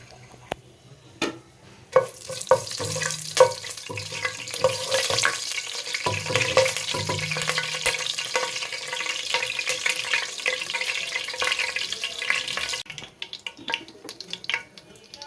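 Dry spices fry in a pan while cooking Sylheti satkora with beef. There is continuous, close sizzling with scraping stir strokes and a few sharp utensil knocks, and it quietens near the end.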